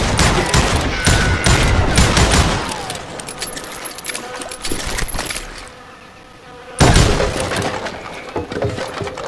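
Rapid gunshots in the Call of Juarez Gunslinger video game crack loud and close in dense bursts. A short lull follows, then another burst of firing.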